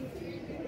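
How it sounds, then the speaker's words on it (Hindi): Pigeons gathered on the ground below a net, pecking at grain and softly cooing. A low, steady murmur of overlapping coos, close by and continuous. "सारे के सारे कबूतर जो है ना नीचे उतरे हुए हैं हमारे जाल वाले"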